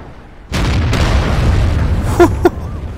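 An artillery shell lands nearby in the World of Tanks game with a sudden loud boom and a long rumbling roar, followed by two sharp metallic pops.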